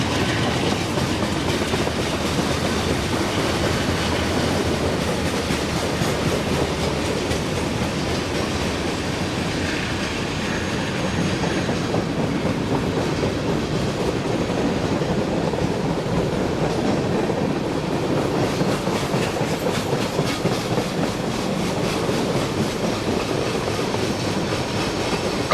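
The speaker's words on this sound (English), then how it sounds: "A helper set meets a westbound mixed freight train headed to Bellevue," A westbound mixed freight train headed to Bellevue, Ohio rolls past a helper set in Pennsylvania, a loud continuous rumble with steady clickety-clack from the wheels over the rails, close by and sustained for the whole stretch, with no voices.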